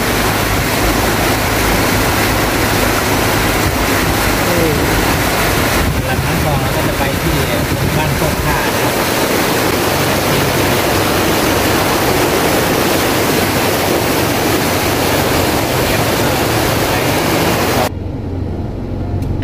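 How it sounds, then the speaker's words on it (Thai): Strong rushing floodwater pours over a road in Khon Kaen, Thailand, released from the Ubol Ratana dam, roaring loud and continuous close by with heavy wind buffeting the microphone; people talk over it. "น้ำไหลแรงนะคะ"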